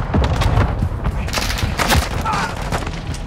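Rapid bursts of gunfire and booming blasts from a Call of Duty Modern Warfare match, dense and continuous, with shouted voices mixed into the chaos.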